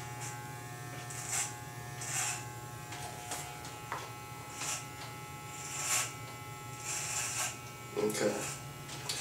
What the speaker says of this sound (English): I'm gonna use a number one clipper, throw it on there